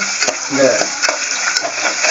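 Steady crackling sizzle of ridge gourd frying in a pan for thuvaiyal, with a few soft stirring scrapes, close and continuous without any talking.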